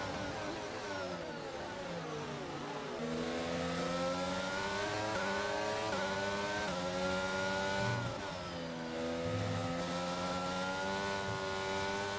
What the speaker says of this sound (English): And there's Landon Norris ahead of us. And we pass him right now.